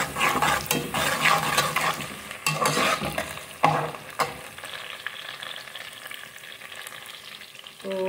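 Onions fry with garam masala in a pan, giving a steady close sizzle broken by repeated scraping and stirring strokes that fade toward a quieter crackle.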